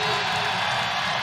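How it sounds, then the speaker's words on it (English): Basketball arena crowd roaring after a made three-pointer at an Appalachian State vs. Louisville men's college game, a loud, dense, sustained wash of cheering that stays steady throughout. "Crowd on its feet"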